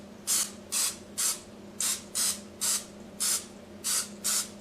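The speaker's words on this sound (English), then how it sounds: "The last step is to spray each fillet on top with olive" An olive-oil sprayer mists the tops of breaded tilapia fillets in about ten short, evenly spaced hissing bursts, each lasting a fraction of a second and heard up close with no talking.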